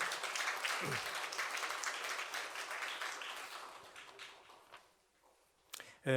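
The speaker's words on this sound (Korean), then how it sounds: "우리 박수로 환영하겠습니다" A church congregation claps to welcome a missionary at a Sunday service, a full round of applause that gradually thins out and fades, followed by a short burst of other noise at the end.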